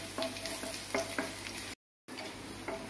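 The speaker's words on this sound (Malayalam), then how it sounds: "ഇതിലേക്ക് നമുക്ക് വെളുത്തുള്ളി ഇഞ്ചി ചതച്ചത് ഇട്ട് കൊടുക്കാം" Crushed garlic and ginger frying in oil with fennel seeds for an egg curry, a steady close sizzle with scattered stirring scrapes, briefly cut by a short gap of silence.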